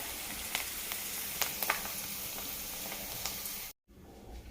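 Green chili paste sizzling and crackling in hot oil, steady and close with scattered sharp pops, then a sudden brief cut before the sizzle resumes.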